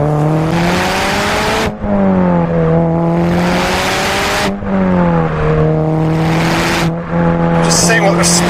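A Subaru Impreza STi S204 accelerates hard, its engine climbing loud and steady through the gears with brief dips at each shift, heard from inside the car.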